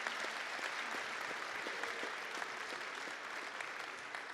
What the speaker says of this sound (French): un bel applaudissement parce que quand même